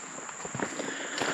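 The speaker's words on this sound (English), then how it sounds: "I'm also curious how much of my footsteps it picks up." Footsteps crunch lightly on a sandy hiking trail with little loose material, a few soft scuffing steps close by over a steady high-pitched insect-like whine.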